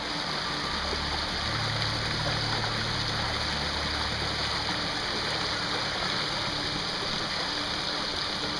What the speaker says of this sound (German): ist hier ein Wasserlauf.